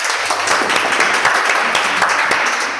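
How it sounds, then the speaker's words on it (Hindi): Audience applause at a coaching institute's New Year celebration, a dense steady burst of many hands clapping that holds evenly for a few seconds at close range, with no talk over it. "एक बार हमारी तरफ से फिर से इनके लिए जोरदार तालियां।"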